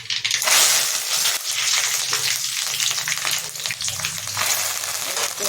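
Mustard seeds, dal and cumin fry in a few spoons of hot oil for an egg fry tempering, crackling and sizzling loudly and continuously up close.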